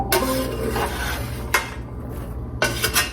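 Chopped Vidalia onion, carrot, celery and green pepper are scraped off a board into a crockpot, giving a few close rasping, rubbing scrapes with brief pauses between them.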